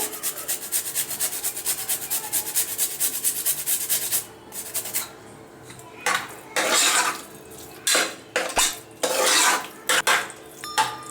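Grapes, pomegranate and grated carrot are mixed into curd rice: a rapid grating rasp first, then a short pause and bursts of scraping and stirring against a vessel, close and loud.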